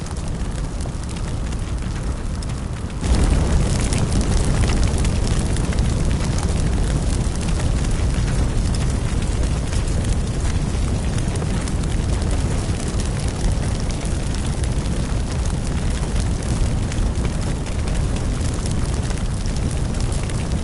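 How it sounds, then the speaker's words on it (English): Roaring, crackling fire spreading in a PS4 firefighting simulator game, a dense steady rush that starts quieter and swells loudly after about three seconds, then holds continuously with no talk. "once again, just watch the fire spread."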